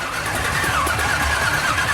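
A hearse's engine cranks and catches, a loud, close churning of the motor that holds steady and rough for about two seconds without any voices.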